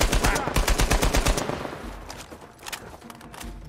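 Rapid bursts of gunfire from a sniper encounter in Uncharted 4: A Thief's End, with dense, loud shots crowding the first half, then thinning into scattered, quieter reports.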